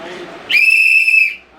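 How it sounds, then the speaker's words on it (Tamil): A single shrill whistle blast at a political rally rings out loud and steady for under a second, following a faint murmur of voices. "எங்கே அந்த விசில் எடுங்க, நல்லா ஊடுங்க"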